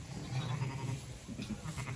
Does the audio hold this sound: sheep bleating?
yes